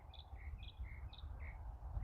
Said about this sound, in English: Can you get the chirping birds?